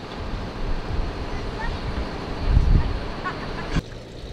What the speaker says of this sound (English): It's so hard to talk and have my voice come out with all this wind.